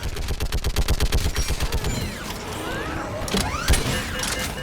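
Video game gunfire in Mass Effect 3 opens with a loud, rapid automatic burst of evenly spaced shots, then gives way to sweeping whooshes, mechanical sounds and a few sharp impacts in a busy battle scene.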